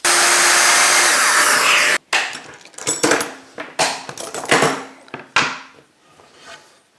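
A wood router cuts an inlay to a final depth of 7 millimetres, a loud steady whine for two seconds that then breaks off into a series of short bursts and knocks as the cut finishes.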